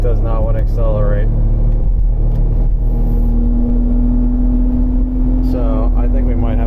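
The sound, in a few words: 2001 BMW X5 3.0L engine straining, pedal floored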